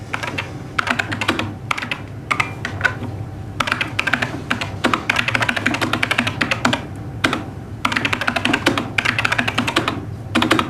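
Rapid keyboard typing clatters on steadily for several seconds, irregular clicks and taps with short pauses, close by over a low background hum.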